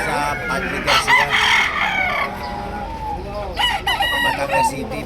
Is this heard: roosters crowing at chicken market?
yes